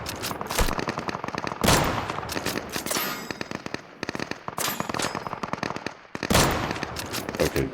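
Gunfire in the DEADSIDE video game: rapid bursts of sharp, loud shots in quick automatic strings, broken by short pauses and a few heavier blasts, close and dominating.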